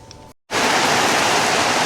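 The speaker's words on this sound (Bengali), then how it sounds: "এই যে বৃষ্টি চলে আসছে, সামনে যাই দেখি।" After a brief silent gap, rain pours down outdoors in a loud, dense, unbroken hiss close by, with no voices over it.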